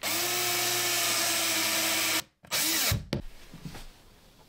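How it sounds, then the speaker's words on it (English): A power drill fitted with an extender whirs steadily for about two seconds, cuts off, then gives a couple of short bursts followed by lighter handling noises. "I'm back with a fancy new drill extender."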